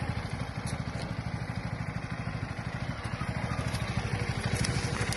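A motorcycle engine idles smoothly, giving a quiet, even, rapid low putter that holds a steady rhythm throughout with no revving.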